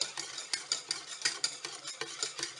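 A whisk stirring sugar into a flour paste in a pot just taken off the heat for piñata making, giving rapid rhythmic scraping and tapping strokes, close and steady, with no speech.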